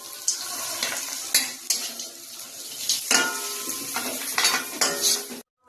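Potato filling with peanuts for samosas being stirred in a pan, giving repeated close scraping and clinking strokes over a soft sizzle, moderately loud, ending abruptly.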